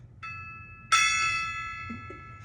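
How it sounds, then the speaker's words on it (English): A gong struck once, giving a brief soft tap and then a louder bright metallic strike that rings on with a slowly fading shimmer, close by in a quiet room. "Oh, the gong! Cue the gong!"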